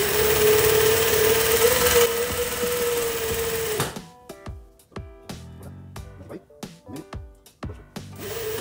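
A sewing machine stitches fabric for a women's outfit with a steady close whir for about four seconds, then stops, followed by a run of sharp clicks and knocks from handling the machine.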